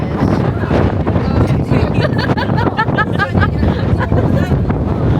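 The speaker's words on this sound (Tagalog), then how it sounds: "Sobrang mahangin" Strong wind roars and buffets the microphone steadily throughout in central Vietnam, around Da Nang and Hoi An, with people talking underneath.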